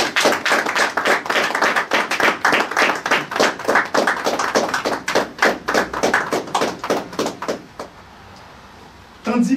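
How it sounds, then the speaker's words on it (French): Audience applause at a formal event, a brisk run of loud, individual claps in quick rhythm that thins out toward the end, followed by a sudden thump. "nous vous demandons, chers amis, de bien vouloir applaudir Monsieur Lorfils Réjoui."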